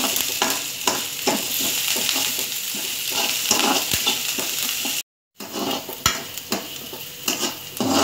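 Onions and curry leaves for a radish sambar stirred in a hot pan, a dense close sizzle with repeated spoon scrapes and clinks against the metal, a brief silent gap midway, and no talking.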